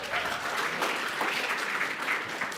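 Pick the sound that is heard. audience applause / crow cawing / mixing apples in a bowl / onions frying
audience applause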